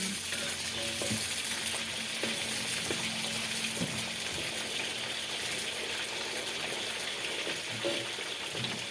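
Chicken meatball mixture is stirred in a pan, a steady hiss with soft, repeated scraping strokes at intervals and no talk.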